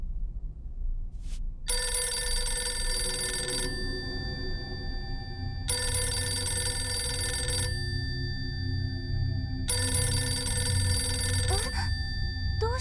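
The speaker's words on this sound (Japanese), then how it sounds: "どうして電話が？" An in-game telephone in the horror game Escape from Hotel Izanami rings in three long electronic bursts separated by pauses, bright and steady over a low ambient hum, with no talking.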